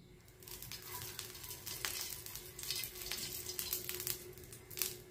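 Ghavan, a traditional Konkan rice crepe, cooking on a pan with a faint, steady sizzle and scattered soft crackles, quiet and close.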